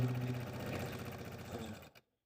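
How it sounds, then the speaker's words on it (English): A sewing machine runs steadily, stitching red felt leaf segments together for a squirrel accessory, a close continuous whir that stops abruptly near the end. "Let's go stitch those now."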